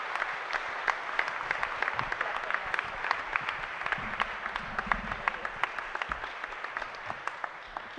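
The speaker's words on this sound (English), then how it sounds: "Can you give them a round of applause again?" Audience applause at a blues summit plenary, honoring women blues artists: a steady, moderately loud wash of many hands clapping throughout, with individual sharp claps standing out, no talk over it.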